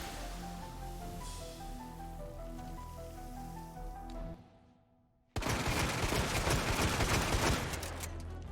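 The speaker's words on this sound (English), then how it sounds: "Sherry fires every weapon in the game at an insanely fast speed." Sherry fires weapons at an absurdly fast rate in Resident Evil 2 Remake, a dense, roaring stream of rapid shots that bursts in after a tonal musical passage and a moment of near silence.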